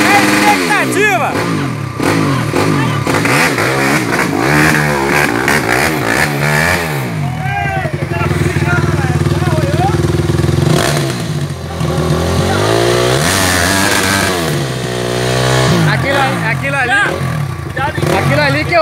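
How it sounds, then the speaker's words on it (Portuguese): A 250cc trail motorcycle on a waterfall trail revs hard again and again, its engine loud and close, rising and falling in pitch while people talk over it. "A moto tava acelerada, passou direto."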